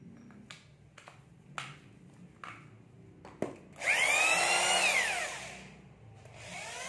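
A Bosch power drill, all original and without reverse, is test-run: several sharp clicks first, then a loud whining motor spin-up that winds down, with a second burst starting at the end.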